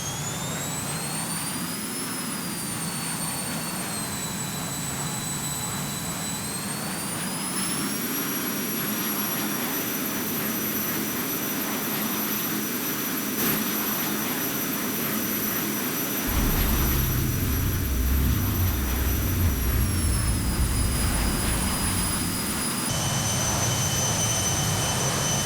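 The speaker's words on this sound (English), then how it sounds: "I will turn on the engines. The engines will be quite loud" Jet engines of a small airliner in Roblox roar steadily for the whole stretch, a loud constant whine with high tones that shift pitch as the thrust changes, and a deeper rumble swelling near the end.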